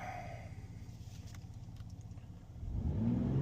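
A 2025 Ram RHO truck engine with a Diablo Sport CAT 6 tune holds a steady mid-pitched drone at about 3,700 RPM, then surges louder near the end, close and alone without talk.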